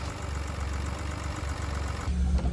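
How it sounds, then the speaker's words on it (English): 1958 Mercedes 219 Ponton six-cylinder engine with a Solex carburettor, idling with a steady low rumble and even pulsing throb, heard close up and growing slightly louder near the end. "She's a 6-cylinder engine fueled through a Solex carb."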